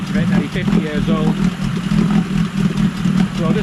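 A cold, nearly 50-year-old Yamaha 20A two-stroke outboard idles a little high with a steady, close burble throughout, while someone talks over it.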